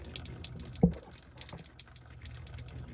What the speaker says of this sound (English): Well, it's draining into the trough.